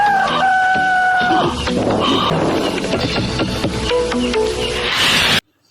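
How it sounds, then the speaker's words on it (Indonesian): A loud rooster crow rings out up close, followed by squawking and clucking fowl, ending in a burst of noise then abrupt silence. "mendengar suara kokokan ayam"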